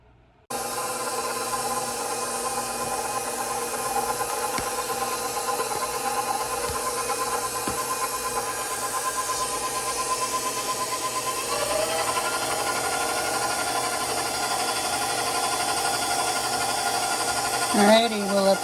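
A stand mixer kneads bread dough from a packet bread mix with yeast, running as a steady mechanical whir and hum for most of the stretch, with a brief louder clatter near the end; someone talks over it.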